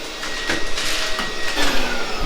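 A vacuum cleaner runs over a floor with a steady, loud broadband whirr and scraping, shuffling bursts as the nozzle moves, and no talking.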